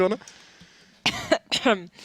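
A few short, sharp coughs close to the microphone, separated by brief quiet gaps with a faint voice at the start.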